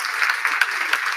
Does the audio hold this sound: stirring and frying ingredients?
no